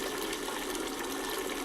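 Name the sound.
yellow water draining from model pee pipes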